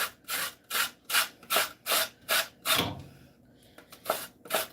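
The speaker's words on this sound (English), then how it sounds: "Get some lemon zest in there." A lemon is zested over banana bread batter with a box grater, giving a series of about ten rhythmic scraping strokes close up, with a short pause in the middle.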